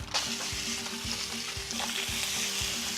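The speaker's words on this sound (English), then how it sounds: "hear that sizzle? That's beautiful." Burger patties fry in olive oil spray in a pan, giving a loud, continuous close sizzle with crackling pops and a steady low rhythmic thump underneath.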